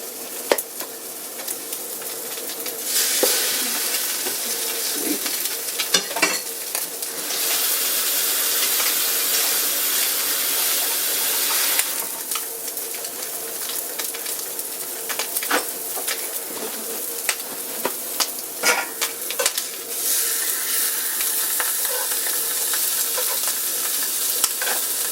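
Slices of bread sizzle and hiss in a cast iron pan while being made into a Monte Cristo, steady frying noise swelling and easing in waves, with occasional clinks and scrapes.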